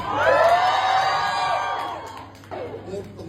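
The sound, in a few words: crowd screaming loudly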